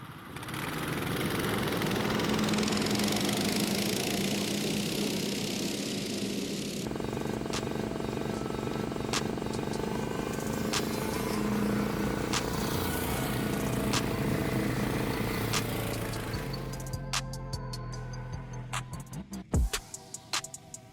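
Snowmobiles and motorized dog sleds race in winter, their engines a steady loud roar that later thins into separate revving machines with clattering near the end.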